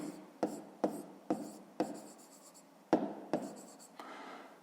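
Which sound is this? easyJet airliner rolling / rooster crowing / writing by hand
writing by hand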